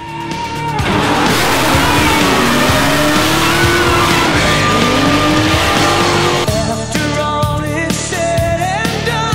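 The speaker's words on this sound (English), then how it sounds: "Let's talk drifting." A drift car running hard through a competition qualifying run, with loud, sustained tire squeal that wavers in pitch over a roaring engine, easing slightly toward the end.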